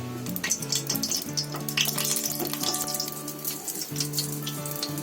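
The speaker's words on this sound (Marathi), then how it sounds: "तुम्हाला फ्राय करून कमी तेलामध्ये दाखवते" Sweet potato patties fry in a little oil in a pan, a steady soft sizzle and crackle running under a sustained tonal hum, continuous throughout with no talking.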